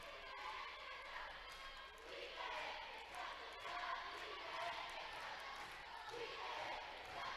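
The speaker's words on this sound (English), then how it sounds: "And you can hear the crowd in the background." Crowd in a gym at a state championship high school basketball game, a steady, distant roar of many voices with swells of cheering, continuous throughout and fairly faint.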